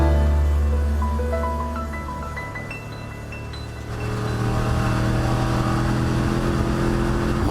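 Onboard sound of a Ford Mustang race car running at Circuit of the Americas in a ChumpCar endurance race, its loud engine rising and falling through gear changes, then settling into a steady, heavy drone.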